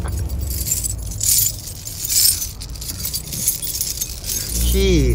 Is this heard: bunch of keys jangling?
yes